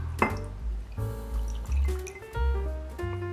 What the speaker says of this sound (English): Pour about 2 ounces of your whiskey of choice into the glass.